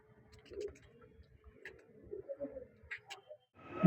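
Giribaj pigeons coo in low, soft, intermittent murmurs, with faint ticking clicks scattered throughout and a brief louder sound at the very end.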